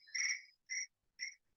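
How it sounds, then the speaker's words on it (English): Crickets chirping outdoors, three short bright bursts with brief pauses between them, faint and alone with no talking. "So we have birds and we have crickets here."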